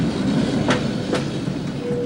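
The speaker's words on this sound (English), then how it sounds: "the tram took itself round the loop to face the opposite direction" A Prague tram rolls round its turning loop, giving a loud, continuous rumble of wheels on rail with a couple of sharp clacks and a faint squeal near the end, close by with no voices.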